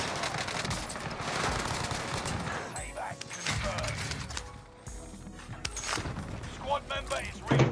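Rapid video-game gunfire crackles in bursts of automatic shots, loud and close, broken by brief pauses and mechanical clicks, with players talking over the action.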